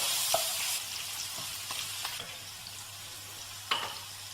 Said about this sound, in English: followed by the sliced red onion and the chopped celery. Let's have a stir.